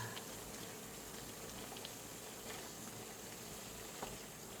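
Stew bubbling steadily in a pot, a constant soft boiling hiss and gurgle at close range with no voices.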